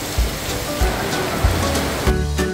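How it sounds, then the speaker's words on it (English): Heavy rain pours down outdoors at Sentosa, Singapore, a loud dense hiss with a few low thumps and a brief dip near the end. "it suddenly rained heavily"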